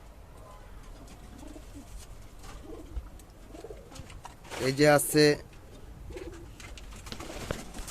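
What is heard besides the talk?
pair of Giribaz pigeons cooing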